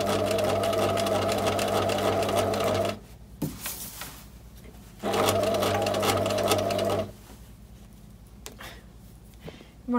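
A sewing machine stitches through thick tweed fabric in two sustained runs of steady mechanical whirring and needle clatter, each a few seconds long, separated by pauses with small handling knocks, close and loud.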